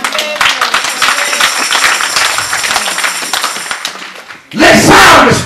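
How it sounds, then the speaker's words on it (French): Church congregation applauding and cheering at a Sunday service, dense clapping and shouts that fade out, then a sudden loud burst of cheering near the end. "Acclamons le Seigneur"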